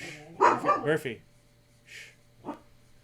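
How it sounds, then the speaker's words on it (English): A pet dog at home gives a couple of short, fairly close barks after someone speaks, with quiet pauses between them. "My dog is being silly."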